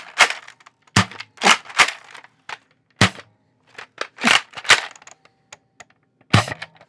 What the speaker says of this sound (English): I used my Nerf gun here